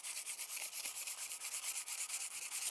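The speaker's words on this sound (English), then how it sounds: "I take a little sandpaper and get rid of it" Hand sanding with sandpaper strips sealer from a new wooden garden tool handle, giving steady, rhythmic back-and-forth scratchy strokes, close and fairly quiet, with no talk.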